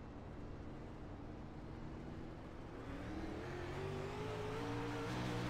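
A field of 360 winged sprint cars roars at Knoxville Raceway as a heat race gets underway, engines droning steadily and building in pitch and volume as the pack accelerates, with rising harmonic whine toward the end.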